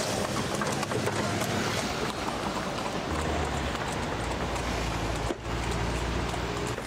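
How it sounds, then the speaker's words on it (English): Hooves of a horse drawn carriage clip-clop through a late evening ride in Morocco, moving from the Medina old town into the modern district, steady hoof beats mixed into a loud, dense wash of street and wheel noise. "Some of us decided to take a late evening ride in a horse-drawn carriage."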